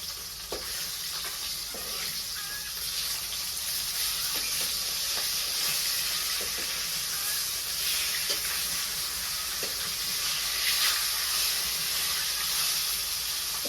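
Fish fry in hot oil in a home kitchen, a loud continuous sizzle and hiss with repeated light scraping and stirring taps throughout.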